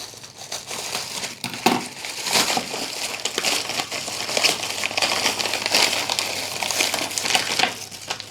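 Plastic packaging for a USB-C keyboard cable crinkles and crackles as it is opened by hand, a close, continuous rustling with sharp crunches scattered throughout.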